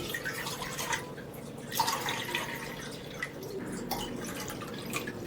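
Water runs and splashes steadily into a pan, a continuous pouring sound with a few brighter drips and no voices.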